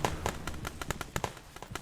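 Rapid, crackling gunfire in the Glory To The Heroes video game rattles in dense irregular bursts of sharp pops, loud and close throughout.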